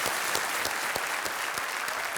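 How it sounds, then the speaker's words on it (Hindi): A studio audience on a quiz game show applauds ten new contestants, with loud, sustained clapping and a few sharp individual claps standing out from the crowd. "जोरदार तालियां हो जाए हमारे 10 नए कंटेस्टेंट्स के लिए"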